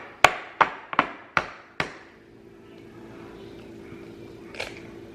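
An egg being cracked with an egg cracker while cooking: five sharp taps in quick succession, close and fairly loud, then a quiet stretch with one faint clack near the end.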